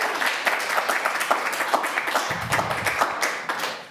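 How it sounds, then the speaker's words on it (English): Audience applause at a live art startup pitch show, a sustained round of many hands clapping at close range, dense and steady for several seconds. "Let's give the Cultural Centre a big round of applause."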